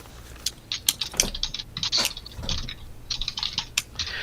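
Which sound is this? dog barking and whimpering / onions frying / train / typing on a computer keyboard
typing on a computer keyboard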